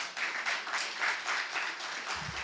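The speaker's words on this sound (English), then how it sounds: "Can we have a big round of applause for everyone who performed?" Open mic storytelling and poetry audience applauding the performers, a small room of rhythmic hand clapping, fairly quiet and steady throughout.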